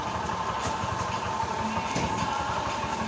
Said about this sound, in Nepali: इन्जिनको साउन्ड यस्तै रहेछ।